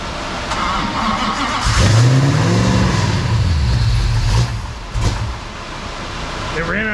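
A car engine fitted with DEI-wrapped headers cranks and revs on a run stand, loud and close, with a rising and falling engine note and people talking over it.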